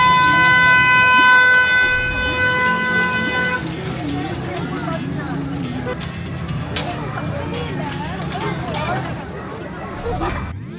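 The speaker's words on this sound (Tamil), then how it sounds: "இப்போ ட்ரெயின் வருது" Train horn at Athisayam amusement park in Madurai: a loud sustained multi-tone horn blast for several seconds, followed by rumbling train noise and crowd chatter as it passes, with people talking throughout.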